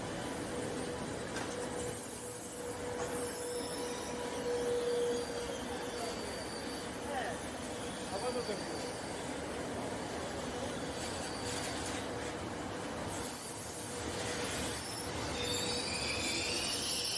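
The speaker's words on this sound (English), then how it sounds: "and we pull in alongside the Intercity 728." An Intercity Notte sleeper train pulls into a station, its wheels giving off a sustained high metallic squeal over a steady rolling rumble, with faint thin tones rising and fading along the way.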